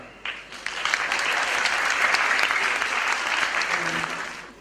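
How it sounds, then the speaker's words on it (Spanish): Sustained applause from an audience at a university lecture on traditional culinary heritage in Chuquisaca, welcoming a speaker; dense, steady clapping that swells in quickly and fades near the end, with faint voices underneath. "Vamos a recibir con un gran aplauso a la licenciada Beatriz Rosers Montal"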